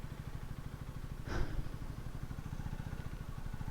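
A 2025 KTM Duke 250 motorcycle riding, its single-cylinder engine thrumming steadily close by, with a brief rushing swell partway through.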